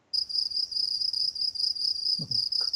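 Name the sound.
crickets chirping sound effect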